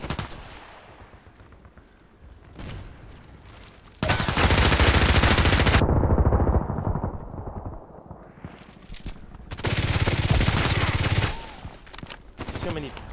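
Gunfire in the online shooter Contract Wars comes in two long, loud, dense bursts of rapid shots, separated by quieter stretches of muffled game noise.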